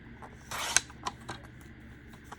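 A Fiskars paper trimmer blade is drawn across paper, giving a short soft rasping slice followed by a few faint clicks and taps in an otherwise quiet room.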